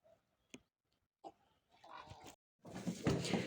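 A heap of piglets give soft, scattered grunts and snorts up close, turning into a louder, busier jumble of squeals and grunts at the end.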